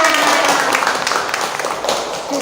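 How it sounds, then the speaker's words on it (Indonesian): A room of children applauds for a classmate named Lana, a close, dense patter of clapping that holds steady and then thins slightly, with voices mixed in. "Tepuk tangan untuk Lana."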